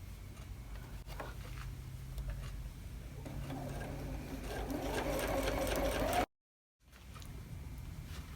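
Sewing machine stitching wonky star quilt blocks after the bobbin and top thread were rethreaded: a steady rapid mechanical whir that grows slightly louder, cuts out abruptly for a moment, then resumes, close up with no talking.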